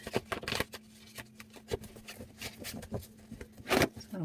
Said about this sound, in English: It's a little harder to shuffle these out better because I've used them so much